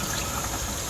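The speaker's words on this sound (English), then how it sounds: "And just rinse the parts off, get any remaining Varsol off" Water running and splashing while metal parts are rinsed clean of Varsol solvent, a steady dense wash of noise with no pauses.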